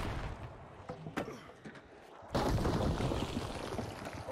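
A frag grenade going off in The Finals: a sudden loud blast midway that lingers as a rumbling, crackling wash, preceded by a few sharp pops and scattered game noise.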